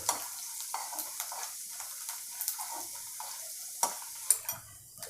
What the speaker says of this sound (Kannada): ಕಡಲೆಬೇಳೆ, ಉದ್ದಿನಬೇಳೆ, ಬೆಳ್ಳುಳ್ಳಿ, ಮೆಣಸು, ಕರಿಬೇವು ಎಲ್ಲ ಅದಕ್ಕೆ ಎಣ್ಣೆಗೆ ಹಾಕಿ ಒಗ್ಗರಣೆ ಮಾಡ್ಕೊಳ್ತಾ ಇದ್ದೆ.